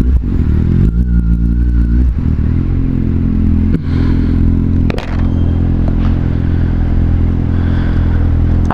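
A Kawasaki Z750 motorcycle engine idles loudly up close and revs several times, with rattling and scraping clatter mixed into the steady rumble.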